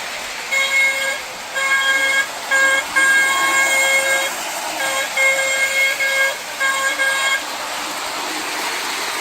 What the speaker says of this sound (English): The horn also works as well, which is a bonus.